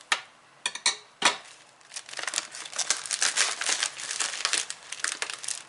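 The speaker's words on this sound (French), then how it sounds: "Je vais prendre des ciseaux, je vais ouvrir ça sur le côté en espérant ne rien couper." A washi tape package is cut open with scissors, giving sharp crinkling plastic snaps and rustles, a few separate crackles at first, then a busier run of crinkling and cutting, close and fairly quiet.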